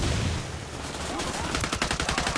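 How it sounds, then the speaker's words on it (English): Rapid gunfire in the tactical shooter Ghost Recon, with a loud, dense burst and then a string of sharp, evenly spaced shots that stand out clearly. "I'm shooting these fuckers"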